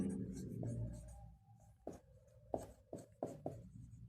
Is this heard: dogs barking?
no